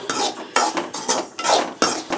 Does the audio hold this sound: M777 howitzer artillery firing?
no